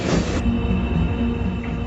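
A Beijing–Lhasa passenger train rolls into Golmud station, a loud steady rumble with a sharp high squeal in the opening moments, then a sustained hum and rattle.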